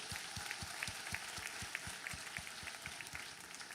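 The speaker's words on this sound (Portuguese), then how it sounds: "Aplaudir." Church congregation clapping together in rhythm, a steady, evenly paced beat of many hands with a low thump on each clap, moderately distant and fairly quiet.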